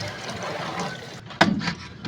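Water gushes and drains inside an LG automatic washing machine as a steady rushing flow, then a sudden louder splash surges and trickles on close by.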